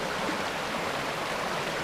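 A clean river stream in Barangay Malibayo, Batangas City, flowing steadily, a constant broad rushing wash of water close by with no talk over it.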